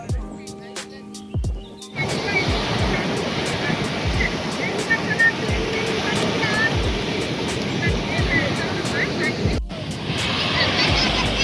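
Sea waves wash steadily onto Puri beach at night, a continuous broad roar of surf with a gusty rush that stays loud throughout, briefly dropping out near the end before resuming.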